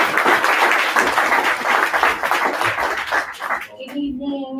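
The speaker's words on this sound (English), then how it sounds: "If we can give them a round of applause." Audience applause at a Colorado ballot initiative event, dense clapping that fades near the end as a voice begins speaking.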